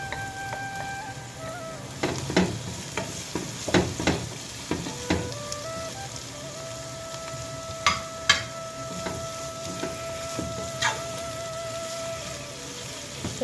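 Onions and meat fry in hot oil for Sri Lankan style fried rice, a constant close sizzle broken by irregular scraping and clinking stirs of a utensil against the pan.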